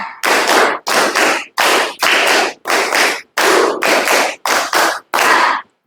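Pupils in a classroom performing a rhythmic cheer-clap together, about ten sharp unison bursts in a quick counted pattern with brief gaps, loud and close, no voices.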